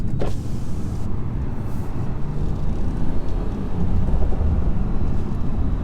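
A steady, low engine rumble with exhaust drone from a 2018 Stage 1 BMW M140i runs throughout, fairly loud and even, swelling slightly toward the end; no talking.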